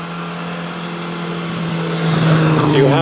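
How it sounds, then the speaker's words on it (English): A 1500cc Riley Falcon special vintage sports car with a pre-selector gearbox idles at the start line of a hill climb. The engine drones steadily, then swells louder as it revs up toward the end. "comes to the line with another Riley Falcon special, 1500cc."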